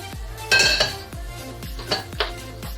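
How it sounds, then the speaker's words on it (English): A spoon stirs tapioca pearls into syrup in a cooking pot, making close, repeated metallic clinks and scrapes against the pot in an uneven rhythm. "Now I'm gonna mix my syrup with my pearls."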